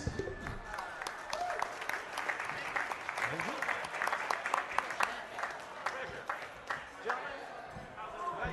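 Club audience applauding a special guest at a swing-era dance night with a live band, scattered clapping from a modest crowd with distinct sharp claps, fairly quiet and uneven, with some voices murmuring.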